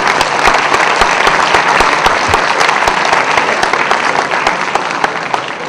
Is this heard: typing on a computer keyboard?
no